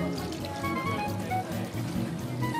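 Chilled soy sauce broth pours over abalone layered with sliced ginger, garlic and green chili, a steady splashing and trickling that runs continuously and close.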